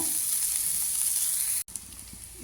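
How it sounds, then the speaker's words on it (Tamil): Egg curry masala of softened onions sautéing in a pan, a steady close sizzle with a brief dropout near the end before the frying resumes, no talking. "நல்லா வதக்கி விடுங்க."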